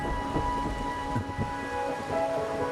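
Steady rain falls in Raguna in the video game Wuthering Waves, a dense, even hiss with soft low rumbles under a faint held musical tone, with no voices.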